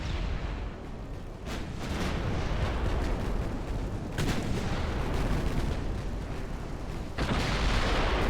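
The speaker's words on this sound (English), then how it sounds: "And more of our main guns." Naval main guns fire in Ultimate Admiral: Dreadnoughts, an 1890-hull warship battle game. Loud, heavy booming salvos roll into one another over a constant thundering rumble, with sharper blasts near the start, middle and end.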